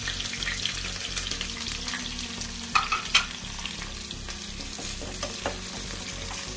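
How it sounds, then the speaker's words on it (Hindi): Tomato, onion, ginger and green chilli sizzle steadily in a hot pan while making dry aloo chole, a continuous close frying hiss with a few louder crackles and stirring scrapes, no voices. "ये टमाटो ऐड कर देंगे, अनियन, ये जिंजर और हरी मिर्ची, सब कुछ इस टाइम पे हम इसमें ऐड कर देंगे।"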